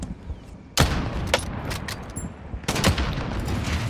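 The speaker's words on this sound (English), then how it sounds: "And I'm gonna run out of ammo shooting at him." Video game gunfire in a shootout: a loud burst of rapid shots opens abruptly, a few scattered shots follow, then a second dense volley closes the stretch, close and unmasked.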